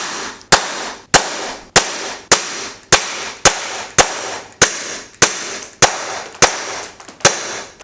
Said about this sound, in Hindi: मैं बिल्कुल पास से फायर कर रहा हूं।